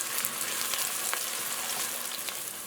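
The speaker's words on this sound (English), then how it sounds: "Now I'm going to go in with my chopped onions. And we're going to allow this to saute in here" Chopped onions sizzle steadily in hot oil in a pot for jollof rice, a dense continuous frying hiss with faint crackles throughout and no voices.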